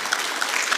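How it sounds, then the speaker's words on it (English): Conference audience applauding, a short burst of dense, even clapping from a room full of people, fairly close and sustained for under a second. "Another round of applause, please"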